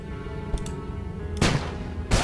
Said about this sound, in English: Health? Nope, bombs.